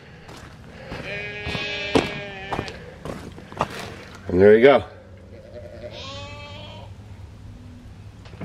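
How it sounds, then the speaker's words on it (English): Sheep bleat repeatedly nearby in a snowy off-grid winter setting, several wavering calls in a row, with a louder one midway, while a person speaks briefly and movement sounds in between. "those sheep are on me"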